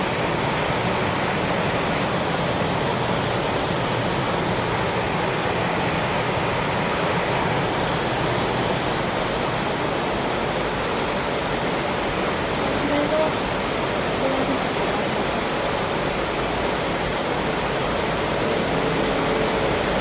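Very heavy rain pours down on a house, a dense, unbroken roar of water filling the whole stretch at steady loudness with no letup.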